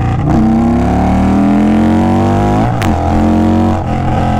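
An Indian Scout Bobber motorcycle engine with upgraded spark plugs revs hard and climbs in pitch, drops briefly on a gear shift, then pulls strongly again, loud and close with no talking.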